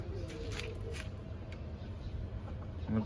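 Hens cluck quietly in a home chicken coop, soft intermittent clucks and rustling close by, faint overall with low background noise and no clear talking.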